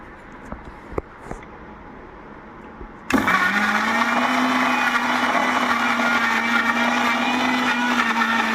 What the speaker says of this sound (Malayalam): എല്ലാം കൂടെ കൂട്ടി ഞാൻ മിക്സിയിൽ അരയ്ക്കാൻ പോവുകയാണ്.